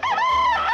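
A rooster crows once, loud and close, a single sustained cock-a-doodle-doo call heard alone with no other sounds.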